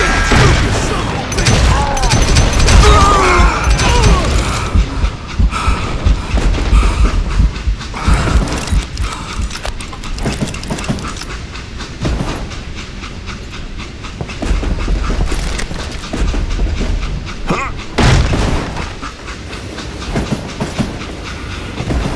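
Train running in the Call of Juarez: Gunslinger video game, a steady loud rumble and rattle with clanking bursts, as the express car is uncoupled from the rest of the train.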